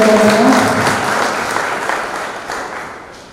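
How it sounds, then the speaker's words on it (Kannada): Loud applause from a crowd, dense clapping that gradually fades over a few seconds, with a faint voice briefly audible at the start. "ಇದು ದೊಡ್ಡ ಚಪ್ಪಾಳೆ ನಮ್ಮಿಂದ ನಿಮಗಾಗಲಿ"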